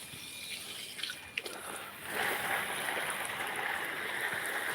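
Water running while a garden is watered at dawn in Thailand: a soft broadband hiss that grows louder and steadier after a couple of seconds, with a few faint splashes and no talk.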